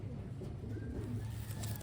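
Taiwanese Wantai pigeons coo with low, soft, continuous throaty murmurs close by, a short steady burst with no talking.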